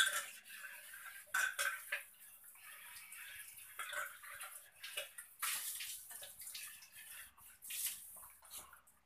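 Cabbage and dishes being washed in water at a kitchen sink, with splashing, trickling and clinking of pots and cutlery in irregular bursts, fairly close and quiet, no talk.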